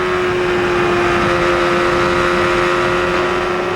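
A 1993 Indianapolis 500 IndyCar engine drones loud and steady, a constant high-pitched whine holding through the turns with slight swells as the driver eases off and back onto the throttle, no voices present.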